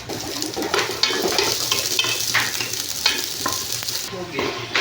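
Cooking oil heating in a pan makes a dense, crackling sizzle with quick spits and pops throughout, close and fairly loud, with no one speaking.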